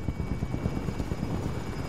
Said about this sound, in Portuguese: Tem helicóptero aqui na frente